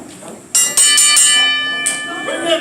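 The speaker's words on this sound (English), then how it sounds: "Ring that bell." A boxing ring bell at a wrestling event clangs in several quick, loud strikes with ringing overtones, followed by one more strike, while an announcer talks over the crowd.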